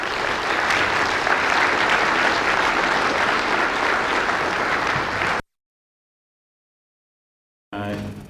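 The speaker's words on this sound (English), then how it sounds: "I really hope you'll join me in sending a really huge round of welcome applause to Congressman Nick Lampson." Welcome applause from a conference audience at a space development gathering for a congressman, loud sustained clapping for about five seconds, then a silent gap and a brief burst of sound at the end.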